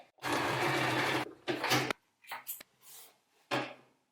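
A sewing machine runs in short bursts stitching a seam on fabric, a steady whirring stretch followed by several brief starts and stops, close and fairly quiet.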